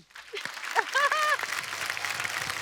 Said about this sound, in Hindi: इसके लिए एक बार जोरदार ताली हो जाए